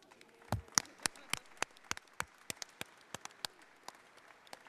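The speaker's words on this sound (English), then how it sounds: "let's give some applause to Ms. Mixon," A small group applauds a speaker at a Bayview community meeting. The claps are sparse, distinct and fairly quiet, and a few people clap at an uneven pace.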